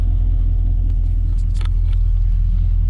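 A car engine idles with a misfiring cylinder, a loud, close, low rumble with a steady uneven pulsing throb.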